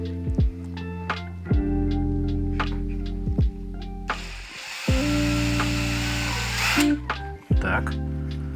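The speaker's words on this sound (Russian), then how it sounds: "Давайте посмотрим, что мы тут сможем насверлить." Power drill boring into the plastic casing of an old Bosch 12V drill battery pack: repeated loud whirring bursts with pitch changes, separated by short pauses and clicks, plus a harsher grinding stretch midway, with talk at times.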